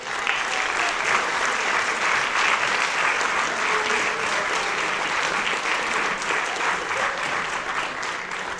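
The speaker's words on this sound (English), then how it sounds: "Let's give a round of applause to the Board of Directors." An audience at a Morgan Hill community celebration applauds the board of directors, sustained dense clapping from a large crowd at steady loudness throughout, with no speech over it.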